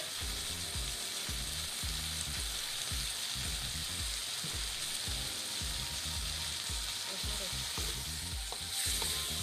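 Tempe being stirred in a pan with spices, a steady loud sizzle of frying with rhythmic scraping strokes of the spatula throughout, close and continuous without talking.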